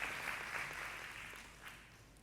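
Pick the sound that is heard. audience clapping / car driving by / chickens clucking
audience clapping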